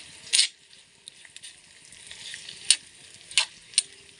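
Onion, nigella seeds, fenugreek, hibiscus leaves and aloe vera gel frying in coconut oil, a soft close sizzle with a few sharp stirring scrapes and crackles, no voices.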